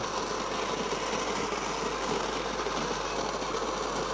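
An electric coffee grinder grinding espresso beans, a loud, steady motorized whirr with a gritty crunching texture that continues without a break, with no speech.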